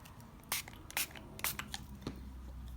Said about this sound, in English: I'm also going to use some nice gold distress spray stain as well